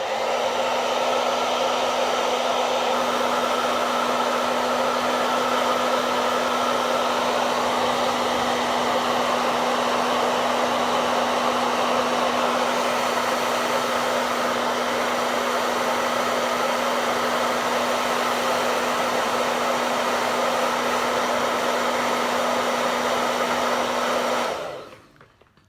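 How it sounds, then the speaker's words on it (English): A hair dryer blows steadily and close for about 25 seconds on a medium or cool setting, used to curl eyelashes, with a constant whooshing roar and faint motor whine before it clicks off at the end. "I like to blow dry my lashes to curl"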